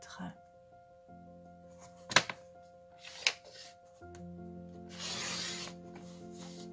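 A strip of paper being cut for a card: two sharp snips followed by a longer rasping slice, close by, over a low steady hum.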